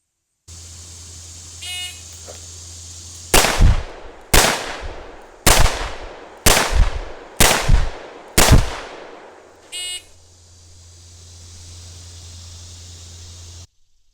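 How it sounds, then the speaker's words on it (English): A .44 Magnum Mountain Gun revolver fires six rounds on a police qualification course, loud sharp reports in a quick even string over about five seconds, framed by steady electronic buzzes before and after. "the officer has to draw and fire 6 rounds into the body of the target in a time limit of 8 seconds"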